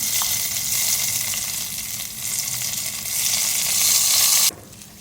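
A Dhaba-style dal tadka of dried red chillies, onion and Kashmiri red chilli sizzles and fries steadily in hot oil, a loud continuous crackle that cuts off abruptly near the end.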